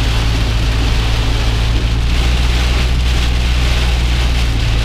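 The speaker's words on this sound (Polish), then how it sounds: "Deszczyk sobie pada." Steady heavy rain drums on a car driving at about 50 km/h through a thunderstorm in Austria, with wipers on full, a dense continuous hiss over a low engine and road rumble, with no talking.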